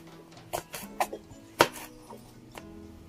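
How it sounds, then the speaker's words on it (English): Knife slicing chilies thinly on a cutting board, a few sparse, quiet taps and chops spaced irregularly over a low kitchen background, one sharper cut standing out near the middle. "And for the chilies, you slice it thinly"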